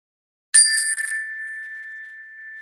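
A small bell is struck once at close range and rings clear and bright, then its tone fades slowly in quiet surroundings.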